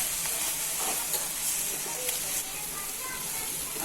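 Okra coated in besan masala sautéed and stirred in a hot pan, a steady soft sizzle with occasional light stirring scrapes, fairly quiet and unbroken.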